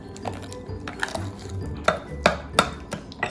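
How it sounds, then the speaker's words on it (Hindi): Dried thyme and herbs being stirred into butter with a spoon in a bowl, giving a series of soft scraping strokes and several sharp clinks of metal against the dish, close up. "और इनको आपने अच्छी तरह मिक्स करना है"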